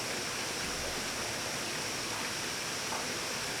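Water flows steadily in a park, a dense, even rushing wash like a stream or small waterfall, fairly loud and continuous with no voices over it.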